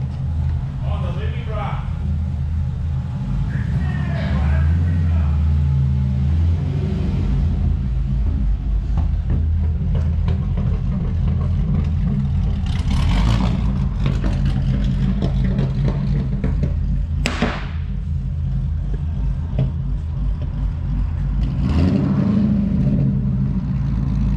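A Holden Commodore VE SS Ute's V8 roars loudly on a dyno during a shakedown run, a sustained heavy rumble with surging revs and sharp bursts, while people talk over it.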